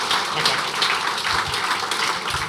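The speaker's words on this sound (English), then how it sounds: "Give yourselves a round of applause for that, Rick." Applause at an Eastbourne football club gathering, a mixed crowd clapping steadily at close range with some murmured voices and bumps underneath.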